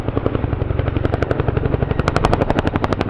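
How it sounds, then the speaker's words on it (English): A Chinook helicopter displaying at the Farnborough International Air Show 2024 gives a loud, close, rapid rhythmic thudding of rotor blade slap that quickens and sharpens toward the end, with no talk over it. "you can get ready to hear the Chinook's iconic blade flash"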